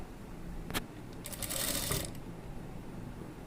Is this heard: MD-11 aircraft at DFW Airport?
no